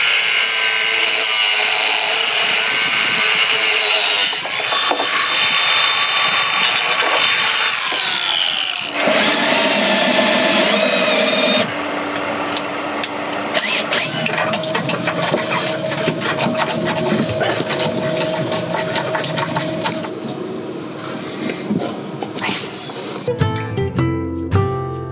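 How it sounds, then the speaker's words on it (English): An angle grinder cuts G10 fiberglass laminate for a lithium battery box, a loud, continuous abrasive grinding and rasping that runs nearly the whole time, shifting in pitch as the disc bites and eases, with a brief break near the end. "So I'm just gonna go take a grinder and make this a little bit smaller."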